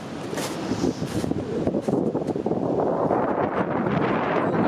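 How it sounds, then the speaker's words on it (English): Strong wind roars steadily into the microphone, buffeting and gusting throughout with a rough, continuous rumble. "It's getting very windy."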